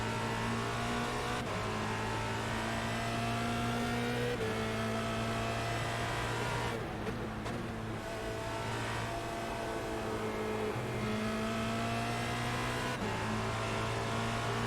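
A Formula Renault 2.0 race car lapping Oulton Park, its engine droning steadily up through the gears with sharp shift breaks and a brief lift around a corner, loud and continuous with no voices.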